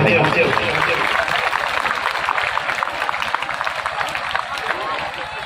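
Loud, sustained applause from an audience welcoming a guest to the stage at a memorial ceremony honouring Dau Tularam Arya Parganiha, dense steady clapping with voices mixed in throughout.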